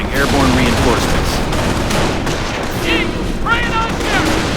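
Gunfire rattles in the World War II strategy game Company of Heroes, with dense, continuous bursts of rifle and machine-gun fire close by and shouted voices mixed into the battle.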